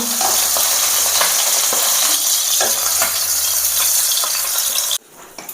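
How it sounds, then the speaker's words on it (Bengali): Chicken pieces fry in oil in a wok for a Bengali yogurt chicken dish, a loud steady sizzle with occasional stirring scrapes, ending abruptly in a quieter moment. "একে একে আমি এই চিকেনগুলো সব ভেজে নিয়েছি লাস্ট আমার এই কটা আছে"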